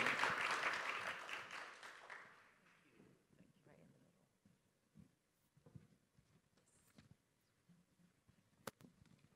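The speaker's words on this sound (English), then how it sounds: "An applause, please, ladies and gentlemen." Audience applause at a G20 International Standards Summit session, a broad wash of clapping loudest at the start and fading over about three seconds, followed by scattered faint claps and room noise.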